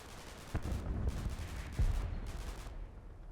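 Sten gun fire in a WWII tactical game, a busy stretch of rapid small-arms bursts with sharp cracks, fairly close and continuous, with no talk.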